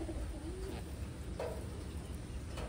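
A Taiwan racing pigeon gives soft, low coos at close range, faint over a steady background hum.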